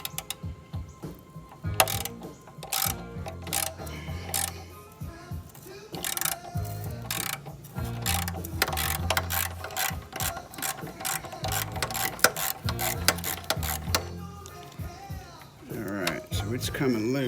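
A ratchet fitted with a 12 mm socket loosens an exhaust bolt on a 2015 Honda CB1000R motorcycle. It gives off bursts of close, rapid clicking pawl sounds between clanks and handling noises, with a person talking throughout.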